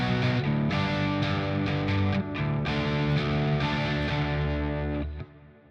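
Heavily distorted electric guitar power chords ring out loud and sustained, changing several times before cutting off near the end.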